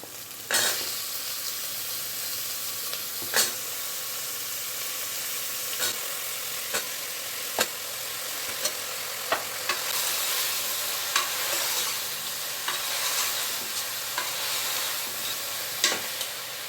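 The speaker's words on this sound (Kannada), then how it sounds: "ಈಗ ನಾನು ಎರಡು ಪ್ಯಾಕೆಟ್ ಆಗೋಷ್ಟು ಮಶ್ರೂಮ್ನ ಎತ್ತಿಟ್ಕೊಂಡಿದ್ದೀನಿ ನೋಡಿ ಈಗ ಎಲ್ಲ ಹಾಕೊಂಡ್ಬಿಡೋಣ" Mushrooms frying in a pan for a mushroom sambar, a continuous sizzle broken by sharp scrapes and clacks of a spoon stirring every second or two, close and fairly loud with no talk.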